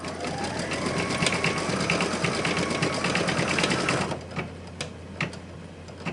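An embroidery machine stitches a design in a fast, steady mechanical chatter of needle strikes with a constant motor hum, then drops to slower, sparser clicks and ticks for the last couple of seconds.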